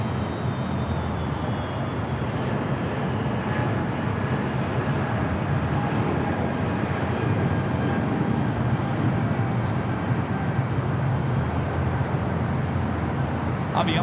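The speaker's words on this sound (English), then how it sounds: "It'll be the second special livery with Allegiant that we've seen here today." An Allegiant airliner in a special livery arrives at LAX with a loud, steady jet roar that holds unbroken the whole way through.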